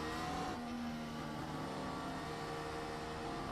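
An F1 car engine in the iRacing video game drones at a high, steady pitch with a brief rise in revs, loud and continuous, with no voices.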